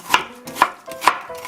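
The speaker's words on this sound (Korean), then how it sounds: "당근을 고명으로 조그만 채를 썰어서 넣어주세요" A knife chops carrot into thin julienne strips on a board for a mild white kimchi, giving three evenly spaced, crisp close thuds with quiet pauses between them.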